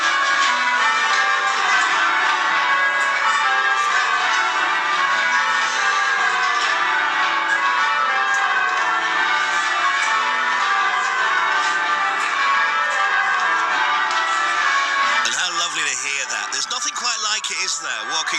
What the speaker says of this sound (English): the bells are bonging, the bells are chiming